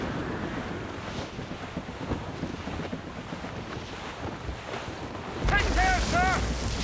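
Squall winds howl and sea waves surge around a sailing ship in Assassin's Creed Rogue, a steady roar of wind and water that swells louder near the end as a voice calls out.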